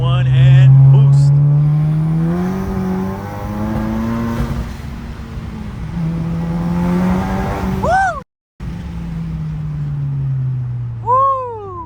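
Turbocharged modified Euro car at a car show pulling hard under about 11 psi of boost, its engine note sweeping up through the gears in long rising tones, loud and close, with a brief cut and a short whistle-like chirp near the end.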